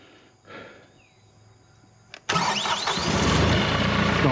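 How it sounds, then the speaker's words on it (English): A Kohler diesel engine on a Cooks AC 36 sawmill: after a quiet stretch and a brief mechanical click, the engine abruptly catches and settles into a loud, steady close-up run. "This has got the Kohler diesel on it. Wait a minute, let it go through its cycle."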